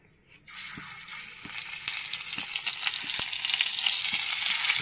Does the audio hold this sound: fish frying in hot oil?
yes